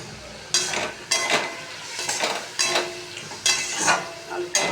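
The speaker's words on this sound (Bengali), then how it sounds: "আলুটা ভাজা হয়ে এসছে প্রায়" Potatoes frying in a pan on a home kitchen stove, bursts of crackling sizzle coming in regular waves as they are stirred, with light clinks of a utensil against the pan, close and clear.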